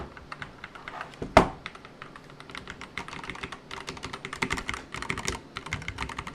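Steady typing on a tenkeyless mechanical keyboard with red switches, 1STPLAYER DK 5.0 Lite, quick light keystrokes with one louder clack near the start, close up with no voices.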